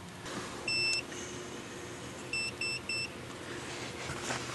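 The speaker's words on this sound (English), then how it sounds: "I got my DVOM set up for continuity, as you can tell by that audible symbol" Digital multimeter set to continuity mode on a car's daytime running light circuit, giving one sustained electronic beep followed by three short beeps in a row, clear against a steady background hiss.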